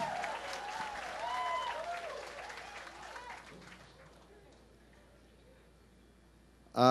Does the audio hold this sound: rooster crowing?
no